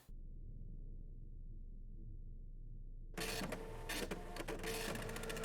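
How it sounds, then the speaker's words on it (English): A library printer sits near-silent at first, then starts up with a loud mechanical whirring and rattling as paper feeds through, continuing to the end. "Please check library printer."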